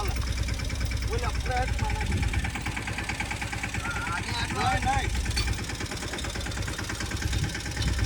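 A mini tractor engine idles and chugs steadily while stuck in a waterlogged farm field, with a constant mid-pitched running drone and people talking over it.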